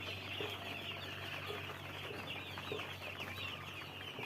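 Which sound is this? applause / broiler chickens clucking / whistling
broiler chickens clucking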